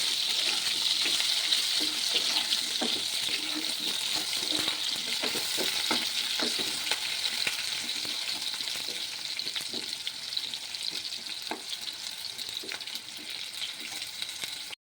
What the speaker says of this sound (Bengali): তো আলুগুলোকে আমি একটু লাল লাল করে ভেজে নেব।